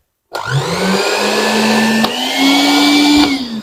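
A repaired electric blender that had been completely dead runs again, its motor starting with a rising whine and holding a loud, steady hum with no talk over it.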